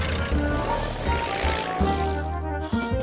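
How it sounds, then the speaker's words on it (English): Cartoon sound effect of a toy plane flying, a buzzing propeller-like drone with shifting pitch, backed by music. "But today, he decided to fly in my toy plane."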